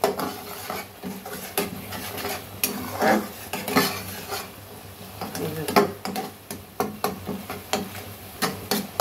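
A fish curry cooked with cumin powder, stirred and sautéed in a pan: repeated scraping of a spoon against the pan over a steady low sizzle, irregular and close, with someone talking throughout.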